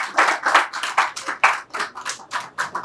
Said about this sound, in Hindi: एक बार अपने लिए जोरदार तालियां बजा लीजिए आप लोग